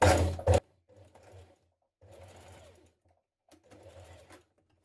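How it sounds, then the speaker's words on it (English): A sewing machine stitches a blouse cuff in short bursts: one loud opening run, then three quieter stretches of stitching separated by pauses. "we're going to just stitch it 2 centimetres high"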